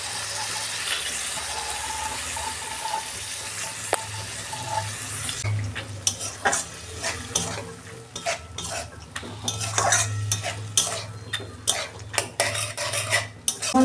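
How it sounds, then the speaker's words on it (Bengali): Matar dal stirred and sautéed with spices in a pan, a steady background sizzle under repeated scraping and clinking of a utensil against the pan, close and moderately loud, no talk. "ডালটা আমি দিয়ে কষে নিয়েছি"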